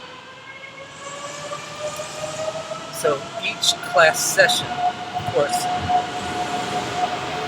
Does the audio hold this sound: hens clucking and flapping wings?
no